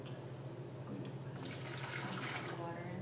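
Water from boiled chicken is poured into a blender holding green chile and onion for green enchilada sauce, giving a soft running, splashing pour that builds toward the end, with kitchen background hum.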